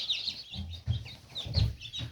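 High-pitched peeping from small chicks, repeated in quick bursts over a low, muffled rumble of movement nearby.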